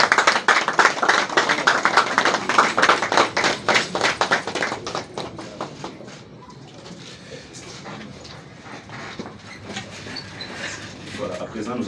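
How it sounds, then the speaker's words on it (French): A large audience applauds at a ceremony marking a handover and a birthday celebration, with dense, steady clapping for several seconds before it thins into scattered claps and murmuring. "Vos applaudissements."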